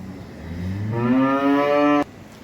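A heifer calf on a dairy farm, already bred two and a half months, lets out one loud, drawn-out moo that rises and holds for about a second before cutting off sharply, with no voices around it.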